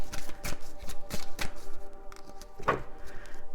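A deck of cards is shuffled for a reading, a few soft riffling bursts and taps close by, quiet and unaccompanied by speech.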